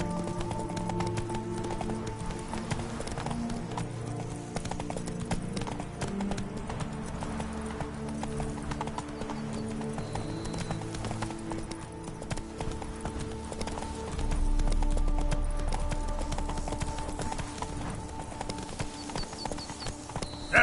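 Hooves of the horse Roach clip-clop steadily at a walk in The Witcher 3: Wild Hunt, a close rhythmic clatter over a bed of game music and ambience.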